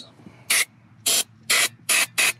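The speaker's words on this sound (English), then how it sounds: "The only thing I got left to do is spray the connectors here" Five short, loud hisses of aerosol spray in quick bursts onto electrical connectors, evenly spaced over a quiet background.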